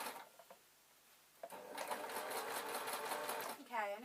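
A sewing machine stitches a layered top, a steady close mechanical whir that starts abruptly after brief quiet and runs evenly, with a voice briefly speaking near the end.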